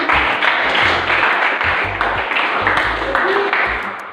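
Applause for a participant during a classroom guidance session, a dense wash of clapping from a group with low thumps underneath, steady and fairly loud.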